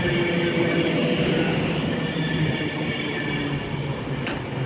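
Virgin train 39151 rolls through Wigan North Western station on a London Euston to Glasgow Central run, a loud, continuous rumble with whining tones and a brief sharp squeal near the end.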